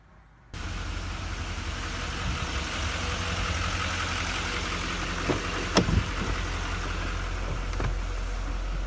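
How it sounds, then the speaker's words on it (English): A Toyota FJ Cruiser TRD truck engine kicks in after a brief quiet and runs at a steady, close idling hum, with a couple of faint knocks near the end. "She loves riding in the truck."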